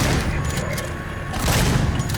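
A shotgun firing in a horror first-person shooter, two loud, dense blasts about a second apart, each with a booming low-end thump and rolling tail, heard up close with no voices.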